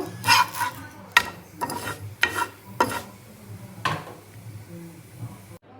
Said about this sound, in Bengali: এই যে এখানে রয়েছে পরোটাগুলো এখন এটা ভেজে নেব